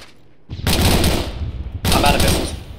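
Heavy automatic gunfire erupts in a compound firefight in ARMA 3, loud sustained bursts of rapid shots, a brief pause, then another close, dense volley.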